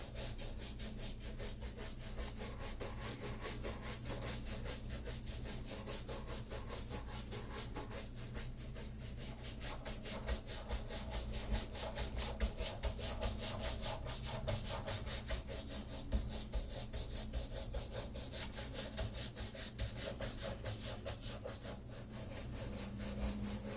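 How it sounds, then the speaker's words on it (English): A horsehair brush rubs briskly back and forth over a pebble grain calfskin shoe, a continuous rapid rhythmic swishing that stays close and even throughout. "Or a nice horsehair brush."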